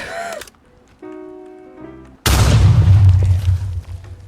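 A loud, sudden landmine explosion in Fallout 4 bursts in with a deep rumbling boom that lingers for a couple of seconds, after brief electronic tones.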